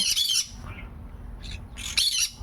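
Sun conure parrots give two harsh, piercing squawks close by, one at the start and one near the end, with a shorter call between and quiet gaps.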